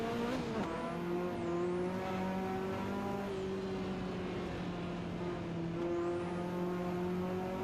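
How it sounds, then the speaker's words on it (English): Video game car engine held high in the rev range, a steady loud droning whine with rising and falling pitch sweeps as it shifts, running alone with no talk. "It sounds like it wants to be up the rev range all the time."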